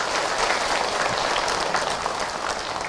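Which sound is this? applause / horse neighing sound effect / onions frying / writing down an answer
applause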